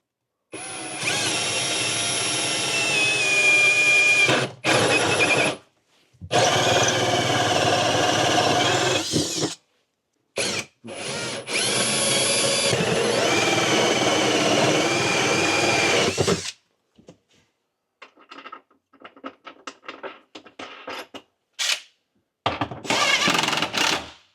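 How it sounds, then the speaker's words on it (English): A power drill fitted with a 1-inch hole saw whines loudly in several long bursts while widening holes in a van cabinet, with short pauses and lighter tapping between runs. "So, got a 1-inch hole saw."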